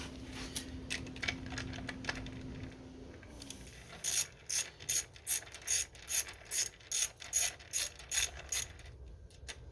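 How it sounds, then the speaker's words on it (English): Size 8 ratchet tightening rear set bolts on a 2025 Kawasaki Z125 Pro: a run of quick, close metallic clicking strokes in a steady rhythm, with faint mechanical handling noise before and no talk. "this is where we're going to need our size 8 ratchet"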